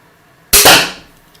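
A Mankung Pistolenarmbrust steambow fires a 230 grain bolt that strikes a target board with one sharp, loud thud, the impact ringing briefly before fading to quiet.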